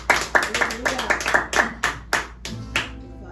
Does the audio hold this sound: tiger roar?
no